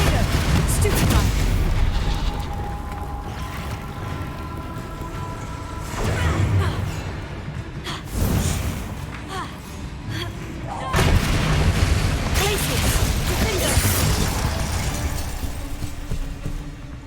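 Hogwarts Legacy combat spells firing in quick succession, sharp blasts and crackling impacts recurring in loud bursts, with a voice speaking over parts of the fight.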